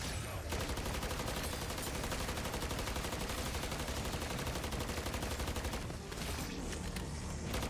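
Continuous rapid gunfire from the Modern Warfare Zombies shooter game, a dense unbroken automatic burst that fills the whole stretch, loud and close, with only a brief dip near the end.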